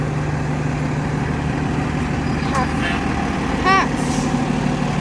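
Fire engine idling as the apparatus heads out to a minor car crash, a steady low rumbling drone throughout, with brief higher chirps over it and faint voices nearby.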